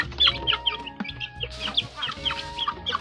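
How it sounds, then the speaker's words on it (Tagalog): Chickens cluck close by in short, irregular bursts, several birds overlapping at a quiet level with brief pauses between calls and no talking. "So, mamahugta og manok."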